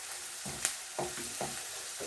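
Kachki fish with green peas, tomato and potato being sautéed in a pan, a steady hiss of frying with a few soft stirring scrapes spaced through the short stretch.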